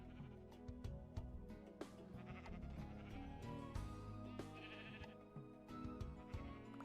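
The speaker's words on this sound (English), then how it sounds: "Noisy sheep." Sheep bleat repeatedly inside a video game, several overlapping calls over a dense game soundscape with a steady busy background, no speech.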